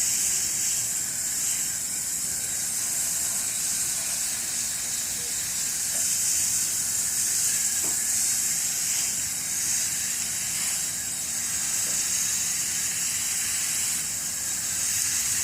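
A hose sprays water at an angle onto an air conditioner coil, a loud, steady bright hiss that continues evenly throughout with faint patter underneath.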